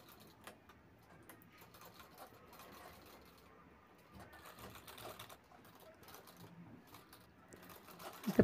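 A sewing machine runs in short, quiet bursts of rapid stitching as piping is sewn onto a designer handbag, with brief pauses and small handling clicks between runs.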